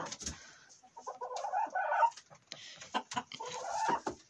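About fourteen hens cluck repeatedly at close range, overlapping bursts of cackling with a rooster's call mixed in, a busy farmyard flock.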